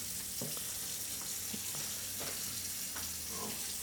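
Kitchen tap running during Afro-Caribbean Easter bun making in Panama, a steady hissing stream of water with faint clinks and splashes, heard close and alone without speech.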